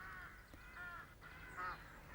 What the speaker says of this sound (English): The call of the rook is also much harsher than that of the crow, sounding eerie and echoing.